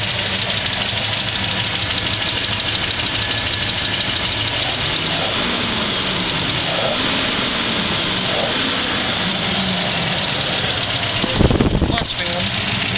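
A 1978 Chevrolet K5 Blazer with a 305 V8 and two-barrel carburetor idles steadily and fairly smoothly at close range, with someone talking over the continuous engine rumble.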